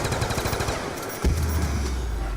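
Rapid automatic gunfire from a zombie video game, loud and continuous, with dense bursts of shots and a heavy low rumble swelling in the second half as the zombies are gunned down.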